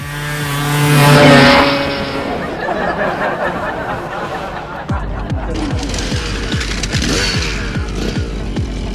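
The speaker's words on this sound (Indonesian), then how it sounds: "bawa motor knalpot bocor. Suaranya bikin kupingku tuli" A loud, raspy motorcycle engine with a leaking exhaust idles and revs nearby, its rough blatting exhaust pulsing steadily, with faint background chatter.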